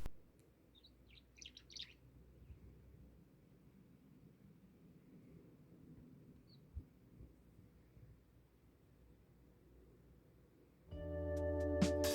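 Several birds chirp in short bursts near a blooming cherry tree, faint against a steady low outdoor hum, before a loud engine-like drone cuts in near the end.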